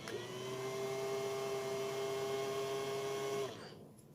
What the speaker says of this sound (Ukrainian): Вентилятор трохи гарчить, але нічого страшного.